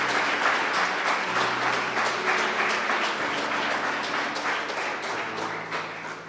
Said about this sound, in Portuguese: Se essas palmas foi para mim